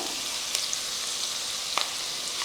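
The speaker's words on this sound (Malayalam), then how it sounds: "ഇനി നമുക്ക് നന്നായിട്ട് തക്കാളിയൊക്കെ വേവനേടം വരെ വഴറ്റിയെടുക്കാം" Onion and chopped tomatoes sautéing in a pan for a chutney, a steady soft sizzle with a couple of faint stirring clicks, close and continuous with no talking.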